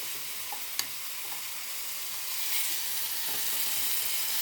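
Karonda berries sizzle steadily in a pan with salt and chilli powder, a continuous frying hiss broken by a sharp clack of a stirring utensil early on and growing slightly louder later.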